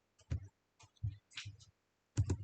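Keys tapped on a computer keyboard to enter a terminal command, a few separate bursts of clicks spread over a couple of seconds, close and fairly quiet with no talk.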